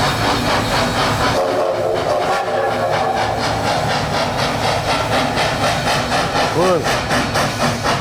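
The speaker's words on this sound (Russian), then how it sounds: "Курьерский поезд." A courier train sound effect played in a theatre hall: continuous loud rumbling rail noise with a steady steam hiss and rhythmic wheel clatter, a brief whistle-like tone late on, and a short spoken word over it.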